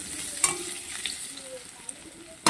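Diced potatoes frying in a pan of oil with a little turmeric stirred in for colour, a steady soft sizzle with occasional scrape and clatter of a spoon, louder knocks near the start and end.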